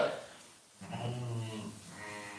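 Sheep in a farm pen let out a couple of drawn-out, wavering bleats, close by and fairly clear, with a quiet pause between calls and no talk.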